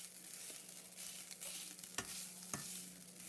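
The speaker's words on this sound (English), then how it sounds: "And then from now on you can fry normally." Rice sizzles softly in a hot pan alongside pork ribs, with a quiet steady frying hiss and a few sharp spatula clicks.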